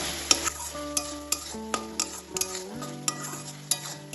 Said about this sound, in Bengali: সবকিছুই তেলের সাথে বেশ ভালোভাবে নাড়াচাড়া করে নিয়েছি।